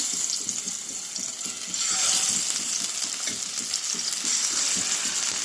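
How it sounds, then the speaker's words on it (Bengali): Small jatka hilsa fish rubbed with turmeric and salt fry in a hot pan, a loud close sizzle with rhythmic scraping and stirring strokes repeating beneath it. "তো প্যানটা গরম হয়ে গেছে এখন মাছগুলো দিয়ে দেবো"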